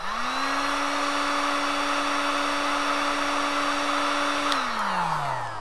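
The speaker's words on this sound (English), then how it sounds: "Let me heat this up with my heat gun." A heat gun blows hot air onto a digital thermostat module, a loud steady whirring roar with a constant tone, close and alone, then winding down as it switches off near the end.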